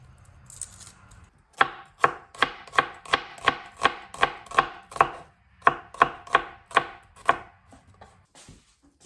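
Knife chops onions on a board in a steady run of about fifteen crisp, evenly spaced strikes, with a short pause midway and a quiet lead-in before.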